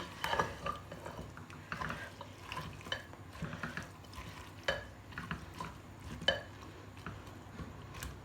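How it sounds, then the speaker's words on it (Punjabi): Mutton being roasted in a pressure cooker with salt, onion, garlic and ginger, quiet stirring scrapes and soft sizzle with occasional clinks of a spoon against the pot. "ਇਹਨੂੰ ਅਸੀਂ ਹੁਣ ਥੋੜਾ ਜਿਹਾ ਦੇਰ ਭੁੰਨਾਂਗੇ ਇਸੇ ਤਰ੍ਹਾਂ ਹੀ ਨਮਕ ਪਾ ਕੇ ਤੇ ਪਿਆਜ਼ ਲਸਣ ਅਦਰਕ ਦੇ ਨਾਲ ਮਟਰ ਨੂੰ ਭੁਨਾਈ ਕਰਾਂਗੇ"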